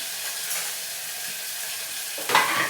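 Ground paste goes into hot oil with curry leaves, giving a steady close sizzle that flares into a sharper, louder crackle near the end, with no talking.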